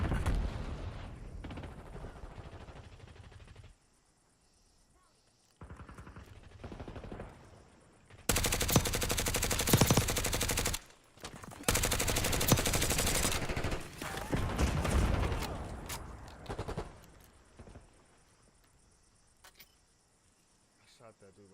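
Rapid automatic gunfire bursts from a multiplayer shooter video game, loud and dense in several long volleys separated by quieter stretches of game ambience.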